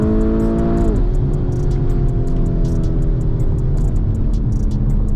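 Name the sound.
Nissan GTR engine revving to the red line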